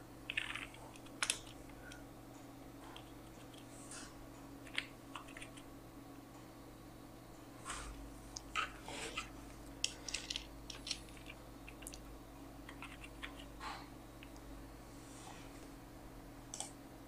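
Someone types in a new browser tab on a computer keyboard, producing faint, scattered key clicks in irregular bursts over a quiet hum.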